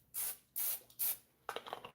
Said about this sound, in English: Let me give it a little extra spray.